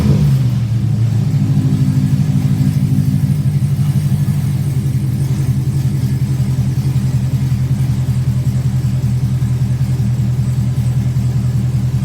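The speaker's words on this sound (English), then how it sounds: "Go ahead and start it up." Car with Borla exhaust starting up from not-quite-cold and settling into a steady, throbbing rumble, close and loud throughout with no talking.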